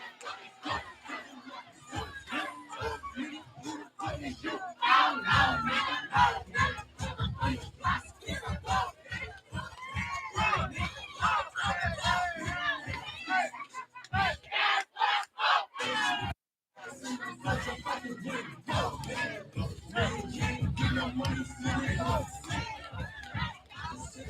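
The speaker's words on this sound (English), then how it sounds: "They're whipping this crowd up into a frenzy right now." A packed boxing-night crowd at Athena's Arena roars in a frenzy, a dense, loud wall of cheering and shouting voices that surges throughout, dips for a brief moment, then swells again with chatter and yells mixed in.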